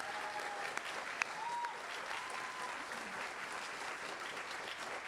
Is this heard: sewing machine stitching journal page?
no